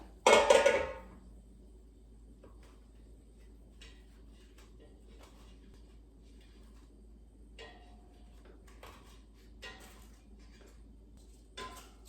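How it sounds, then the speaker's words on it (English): An air fryer basket is pulled out and frozen Trader Joe's cheese blintzes are flipped with a spatula, beginning with a short, bright metallic clatter and followed by faint, sparse taps and scrapes in a quiet kitchen. "let's take out the air fryer basket and carefully flip the cheese blintzes over using a spatula"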